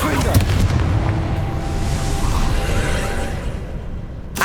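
A Confringo fire spell blasting in Hogwarts Legacy, a heavy booming explosion that rumbles loud and sustained for several seconds, with a sharp crack right at the end.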